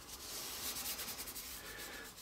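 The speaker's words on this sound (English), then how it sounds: "now that we have this pattern rubbed down onto our hardboard" A paper pattern with spray adhesive is rubbed down by hand onto 1/8 inch hardboard, producing a soft, continuous scuffing friction with faint repeated strokes, close and quiet.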